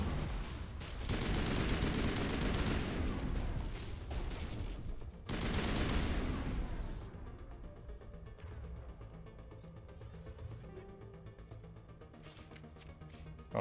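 Gunfire from the Mass Effect video game, dense bursts of shots in two loud spells separated by a brief gap, followed by quieter game ambience and effects.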